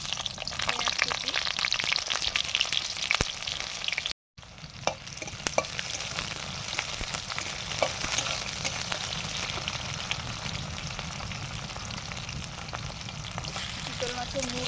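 Chopped onion sizzles and fries steadily in hot mustard oil with cumin seeds and dried chillies, with frequent stirring scrapes and crackles, continuous and fairly close throughout, briefly cut off once.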